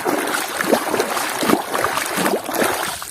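Close splashing and sloshing water while a muddy toy helicopter is rinsed, a continuous choppy wash with small bursts of splatter throughout.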